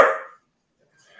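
A dog gives a single short, fairly loud bark at the start, followed by near silence and a faint trailing sound.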